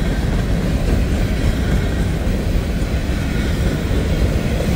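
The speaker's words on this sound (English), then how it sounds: "got to wait for that steel coil train to get out of the way" A steel coil freight train passes on the steep grade of the Rat Hole line, making a steady, loud rumble with a rolling, clattering texture that holds constant throughout, with no voices.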